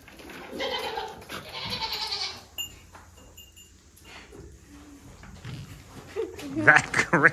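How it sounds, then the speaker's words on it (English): A pet goat bleats a few times near a person, mixed with close talking, soft rustling and a faint bell jingle, louder bursts coming toward the end. "I'm going to walk over there and attempt to pet my goat, Miss Cookie, whom I love."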